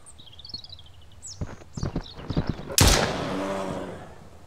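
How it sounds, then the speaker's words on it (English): A single loud gunshot cracks out in the survival game Mist Survival, followed by a lingering rumble and echo, preceded by lighter clattering steps and rustling. "I shot it in the face like multiple times"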